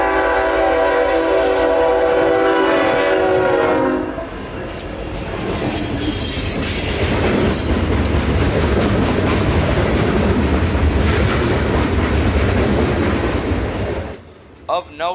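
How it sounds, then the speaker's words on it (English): Q453, a southbound mixed freight train from Waycross to Miami, passes close by after a long, loud horn blast, followed by a sustained rumble of wheels and clacking cars with occasional squeal. "the mystery train was revealed to be Q453, southbound mixed freight from Waycross headed to Miami"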